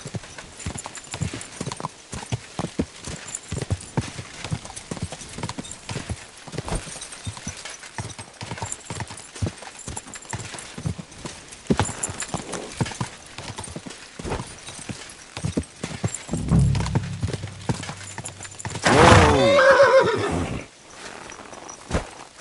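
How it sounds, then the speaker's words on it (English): Hooves clip-clop steadily at a walking pace in the video game Kingdom Come: Deliverance II, then a horse gives a loud neigh near the end, with no talk over it. "My, what a beautiful horse."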